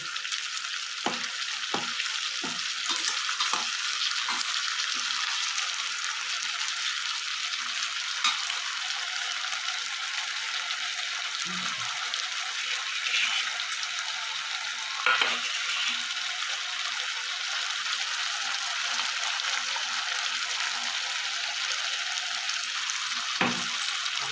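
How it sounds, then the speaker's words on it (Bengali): Ginger-garlic paste fries in oil, a constant close sizzle broken by frequent short spatula scrapes and stirs, some quick and clustered, others spaced apart. "আদা রসুনটা ভেজে নিয়েছি আমি"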